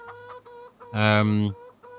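Chickens clucking on a farm in the video game Farming Simulator 25, a few close, steady clucks building to a louder burst of squawking in the middle.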